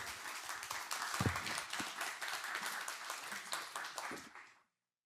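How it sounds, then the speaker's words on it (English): An audience claps at an Indigenous book club event with an author at a theatre, a steady, fairly quiet wash of applause that tapers off and ends abruptly. "Please join me in another round of applause"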